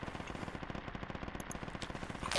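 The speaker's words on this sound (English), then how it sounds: "Oh man, I love the shotgun." Rapid automatic gunfire from a shotgun in a video game battle pelts out in a steady rattling burst for the whole stretch, fairly faint in the mix and with no talk over it.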